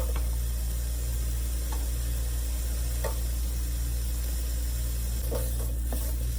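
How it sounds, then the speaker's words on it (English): Onions tossed into an oiled cast iron pan sizzle steadily at low level, with a few brief clinks and stirring scrapes on top and no talking. "And throw our onions in."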